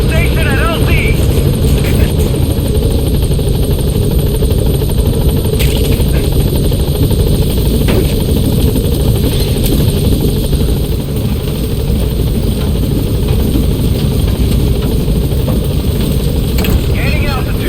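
Helicopter from Metal Gear Solid V: The Phantom Pain, a steady, loud rotor and engine drone running throughout, with a radio voice talking over it.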